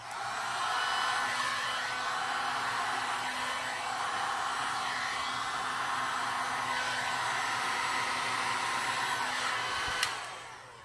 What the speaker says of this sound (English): I'm going to give it a little bit more with the heat gun.